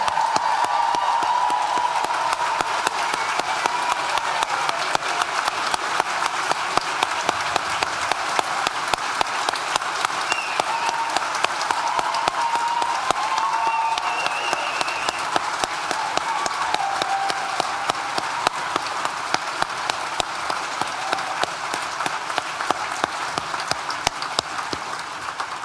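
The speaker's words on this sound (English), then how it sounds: "let's have one last huge round of applause" A large graduation ceremony audience gives sustained, dense applause with some cheering, a steady wash of clapping that holds at an even level throughout without stopping.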